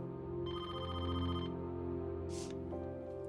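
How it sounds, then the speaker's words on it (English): A telephone ringing in a family home, an electronic ring pattern sounding in bursts over a quiet background hum, moderately close and fairly faint. "the phone started to ring"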